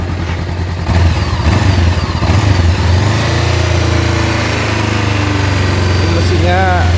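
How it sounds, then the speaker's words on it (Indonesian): A Honda CBR500R motorcycle engine idles steadily up close, with a low rumble and a faint high whine, while a person talks over it near the start. "Coba sampean dengarkan suara mesinnya."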